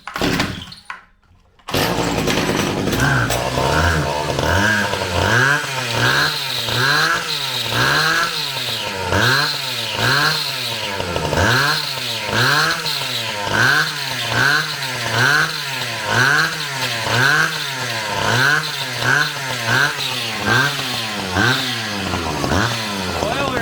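A Stihl 010AV chainsaw engine running with no chain fitted, a loud rasping two-stroke idle that rises and falls in steady rhythmic revving pulses after a brief start, close up and continuous throughout.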